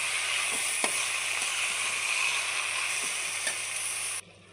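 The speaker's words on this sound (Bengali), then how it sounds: "এদিকে লাউ দিয়ে দিলাম আমি।" Bottle gourd goes into a hot pan beside green chillies, setting off a steady bright sizzle with a few soft clicks and scrapes before the noise cuts off abruptly near the end.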